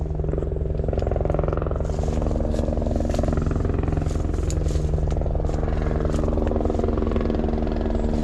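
A helicopter passes over farm fields, its steady low rotor thrum and engine drone loud and continuous throughout, with faint voices underneath.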